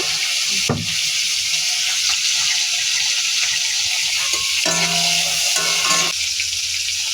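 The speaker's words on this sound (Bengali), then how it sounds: "এখন আমি চিংড়ি মাছগুলো ভেজে নেব।" Prawns fry in hot oil, giving off a steady, loud sizzle with scattered crackles and a few sharper clinks of stirring.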